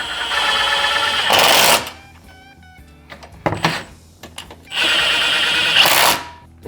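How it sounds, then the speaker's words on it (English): A 7/16 socket wrench tightens the step bolts on an EZGO Liberty golf cart, with two loud bursts of rapid ratcheting close by and quieter clicks and taps between them. "take my 7/16 socket and wrench"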